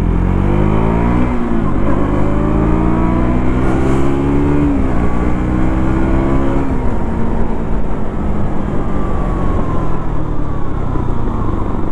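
A 2025 KTM Duke 200 motorcycle rides on a road, its engine loud and close, rising and falling in pitch through several gear changes with steady wind and road noise beneath.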